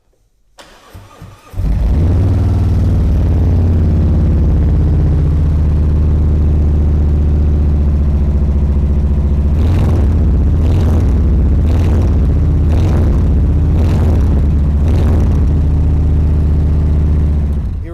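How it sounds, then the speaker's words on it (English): A Harley-Davidson Road Glide Special Anniversary motorcycle cranks and fires into a loud, deep, steady idle, then gets several sharp throttle blips late on before settling back down. No one speaks. "So let's fire this one up and have a listen."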